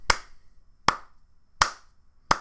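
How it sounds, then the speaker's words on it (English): Four slow, evenly spaced hand claps ring out alone in a quiet room, each sharp and crisp with roughly three-quarters of a second between them. "Slow clap for you"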